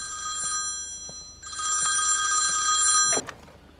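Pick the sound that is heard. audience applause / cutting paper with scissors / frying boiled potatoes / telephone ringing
telephone ringing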